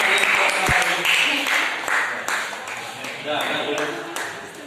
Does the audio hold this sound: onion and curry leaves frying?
no